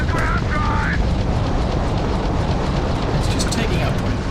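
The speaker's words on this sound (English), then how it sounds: "These turrets are just shooting what they please." Spaceship turrets in the Starfield video game firing during space combat, a dense rumbling roar of blasts and engine noise, loud and continuous with brief sharp bursts, a voice talking over parts of it.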